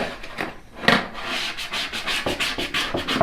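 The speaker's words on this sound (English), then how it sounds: "I've kind of just rub that all down really well to make sure it's sticking well to my sign" A transfer being rubbed down by hand onto a painted wooden pallet sign for Christmas, a close, loud run of quick rhythmic scrubbing strokes after a short pause, with no talking.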